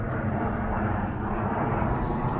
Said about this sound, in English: I'm quite amazed by the plane noise here.